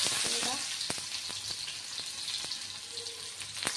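Chopped onion fries in hot oil in a kadhai with a continuous close sizzle, broken by a few sharp clicks and scrapes of stirring.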